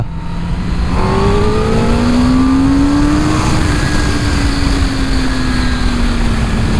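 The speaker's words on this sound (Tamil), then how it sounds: "இப்போ நான் லைட்டாக ரேவ் பண்ணுற செகண்ட் கீழே இருக்கா" A 2021 Kawasaki ZX10R superbike engine revved lightly: a loud, close exhaust note climbs in pitch, holds, then eases slightly, running unbroken throughout with no talking.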